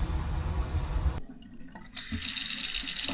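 Tap water running from a faucet newly fed by a freshly drilled well in the Canadian winter, a steady close rush that drops away briefly and then returns at full strength.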